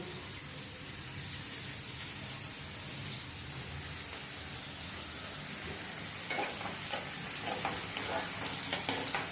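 Tomato and onion masala for a Tirunelveli-style egg curry sizzles steadily in a pan, a continuous frying hiss with stirring scrapes and a few sharper clicks near the end.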